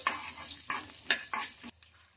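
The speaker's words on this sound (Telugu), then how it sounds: "ఈ పల్లీలను కూడా బాగా ఫ్రై చేసుకోవాలి" Peanuts and chillies fry in a pan with a soft sizzle, broken by a few quick scraping strokes of a spoon before the sound drops away.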